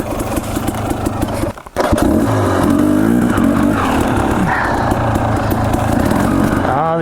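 A dirt bike engine cranks on electric start after a brief silence, catching and settling into a loud, steady close-up idle with pulsing low rumble for several seconds.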